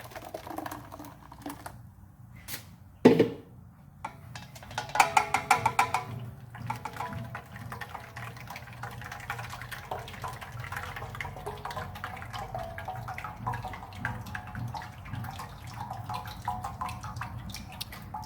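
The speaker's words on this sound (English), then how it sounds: "I'm just going to press out all this water and this out from the sieve." Water drips and trickles through a sieve as fermented young maize and millet porridge is pressed, with irregular close wet splashes and patters, plus a few louder handling knocks near the start.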